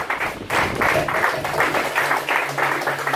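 Church congregation clapping in a steady rhythmic beat, about three claps a second, loud and close, filling the hall.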